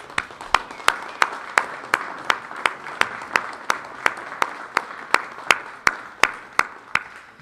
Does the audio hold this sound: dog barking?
no